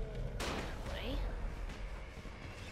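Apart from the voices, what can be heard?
firecrackers exploding in the video game Dying Light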